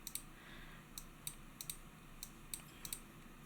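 Computer mouse clicks in spreadsheet software, eight or so sharp, quiet clicks at irregular intervals with no talking.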